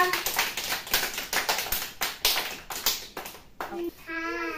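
A group of Anganwadi children claps together in a fast, uneven burst of sharp, close slaps that lasts several seconds, then fades as a voice is heard.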